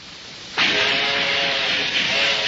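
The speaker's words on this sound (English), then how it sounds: "You're listening to an early steam locomotive." An early steam locomotive sits quietly, then a loud, sustained hiss of venting steam bursts in and holds steady with a faint tonal ring beneath, close and alone.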